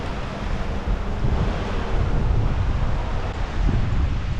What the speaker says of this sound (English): river running along